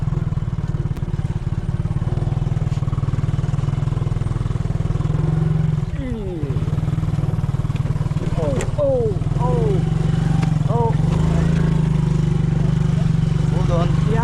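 A motorbike engine drones steadily and close while carrying riders uphill on a rough hiking route to Tula Tula Falls in the Philippines, its low rumble continuous throughout, with brief voices and higher chirping sounds over it.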